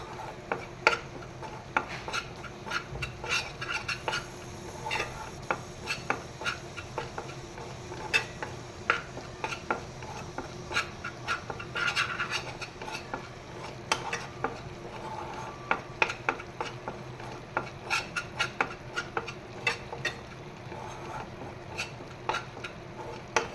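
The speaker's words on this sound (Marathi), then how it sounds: "पण छानपैकी असं मी इथे परतवून घेते कढईमध्ये." Capsicum and gram flour dry-roasting in a kadhai without oil while being stirred, with a soft, steady sizzle broken by frequent light scrapes and taps of the spoon against the pan throughout.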